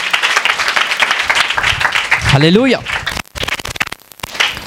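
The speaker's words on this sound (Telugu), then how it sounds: "ఒకసారి క్లాప్స్ కొట్టి ఆయన మహిమపరుచుతాము" A church congregation claps during a Sunday sermon, a dense, fairly loud patter that runs under continuous preaching and shouted praise, with a brief sweeping vocal cry in the middle.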